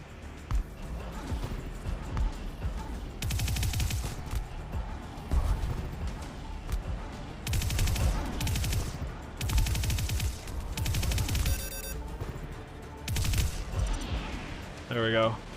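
Weapon fire in the video game Re.Surs, with repeated sharp bursts and volleys of shots over a busy, dense game soundscape, while a voice talks underneath.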